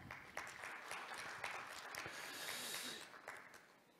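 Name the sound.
audience applause after a presentation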